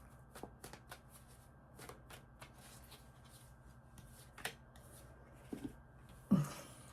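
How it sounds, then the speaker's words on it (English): Tarot cards being shuffled by hand, a quiet series of soft riffling flicks and taps in a hushed room, ending with one louder card snap. "We'll do a couple more shuffles."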